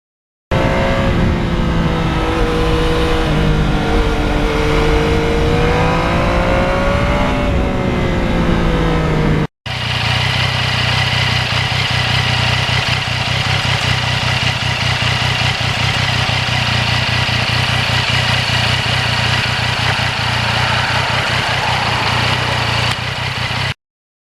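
A 2020 Yamaha MT-09 motorcycle engine droning steadily while riding on an open road, loud and close with heavy wind rush, changing pitch once before a brief cut and a continuous cruise.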